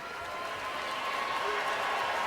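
A basketball crowd at a UConn women's game against Duke, applauding and cheering in a steady wash of clapping that swells slightly, with an announcer talking over it.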